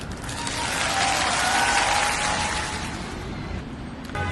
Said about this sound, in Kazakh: Аплодисменты деп жатырмын.